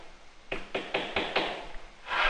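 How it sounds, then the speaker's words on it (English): A steady series of five or six dull taps, evenly spaced, as a tool strikes leather at close range, with a faint hiss behind. "Or the dull tap, tap of tools on leather."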